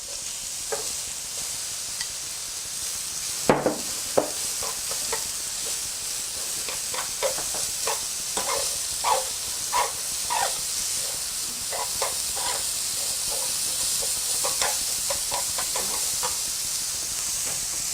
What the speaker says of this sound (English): Let's fry carrot.